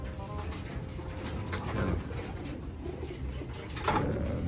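Young pigeons coo softly in a loft, low murmuring calls with a couple of clearer coos rising over a steady background hum, fairly quiet and without talk.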